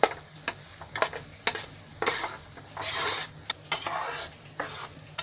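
Semolina roasting in ghee in a pan while being stirred, with quiet clinks and scrapes of a spoon against the metal and a faint soft sizzle, close and intermittent.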